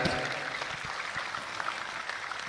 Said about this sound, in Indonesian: tepuk tangan untuk Az-Zahir.